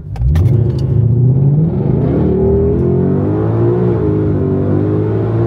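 A sports car roars hard as it accelerates, its loud engine note rising in pitch and sweeping through the gears close by.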